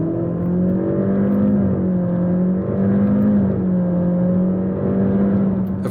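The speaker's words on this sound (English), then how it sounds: "there's a pleasing but much louder soundtrack as the VTEC system and turbocharger work to create a dramatic sensation of rising thrust" Honda Integra engine revving hard with VTEC and turbocharger, a loud, steady engine note with harmonics that climb and dip slightly as the revs build, heard alone without talk.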